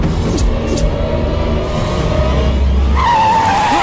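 A car pulls away in a hurry with tires skidding and squealing, set against a dense, loud movie scene backdrop, with a rising screech toward the end.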